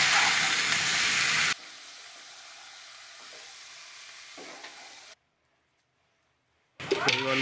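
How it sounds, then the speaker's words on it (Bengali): Chopped bottle gourd with turmeric sizzling and being stirred in a pan, a loud hiss at first that drops to a softer fry, then a pause and a brief return of stirring at the end. "হলুদ গুঁড়ো দিয়ে কাটা লাউটা দিয়ে দিলাম, ভালো করে নাড়িয়ে চাড়িয়ে"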